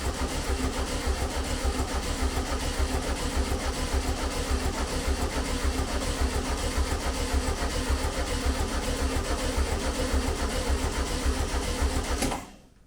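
Air-cooled VW Beetle engine cranking on the key, a steady rapid chugging rhythm held for about twelve seconds before cutting off abruptly, close and fairly loud with no voices.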